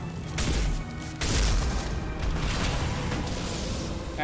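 Heavy explosions boom in the video game Mass Effect 2, two loud blasts a second apart, the second biggest, followed by rumbling debris and a lingering roar.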